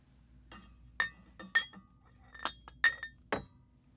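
Glass clinks in about six sharp, separate strikes, one at a time with short pauses between them, close and clear in an otherwise quiet room.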